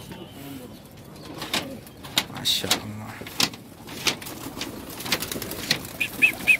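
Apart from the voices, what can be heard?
pigeons cooing and flapping wings, Egyptian yellow breed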